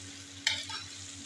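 A brief burst of hot-oil sizzling and crackling as a tarka is poured over minced meat, close up, fading quickly into a soft hiss.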